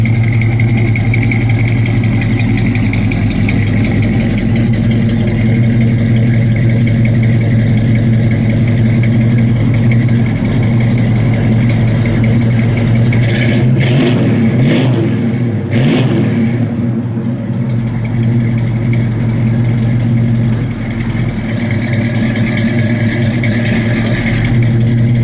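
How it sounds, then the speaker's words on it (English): A 1967 Chevrolet Chevelle SS engine rumbles steadily through Flowmaster dual exhaust with a deep, throaty tone, idling close by for the whole stretch with only slight changes in pitch. "Got nice sounding dual exhaust. Got flow masters on it."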